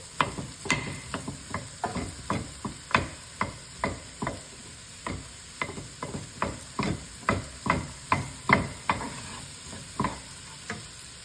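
Steady knife chopping on a board while preparing ingredients for Salisbury steak with balsamic vinegar, about two dozen crisp, evenly spaced strikes close by with no talking.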